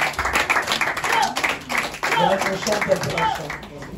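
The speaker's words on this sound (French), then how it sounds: "Est-ce qu'on peut acclamer le Seigneur très fort?" A church congregation at a prayer and deliverance service claps and cheers loudly for the Lord, with dense rhythmic clapping mixed with shouting voices.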